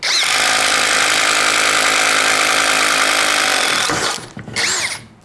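Worcraft CIS-S20LiBH cordless impact driver rated at 230 Nm drills steadily into wood with a loud, sustained whine for about four seconds, then stops abruptly, followed by brief handling noises.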